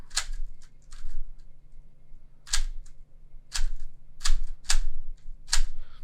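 A GAN v100 3x3 speed cube is turned in quick bursts, giving sharp, crunchy plastic clicks and clacks in irregular clusters, close and fairly loud, with no talking.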